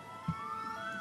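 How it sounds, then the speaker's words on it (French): A police siren wails outside near a person speaking remotely, a steady rising tone fairly faint in the background with a brief thump near the start. "Il y a les sirènes à côté de moi."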